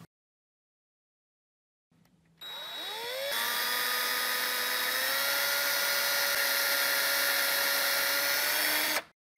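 A small electric drill whirs up after a brief start, then runs steadily at a high, whining pitch for several seconds before stopping abruptly, drilling into a doll's ear.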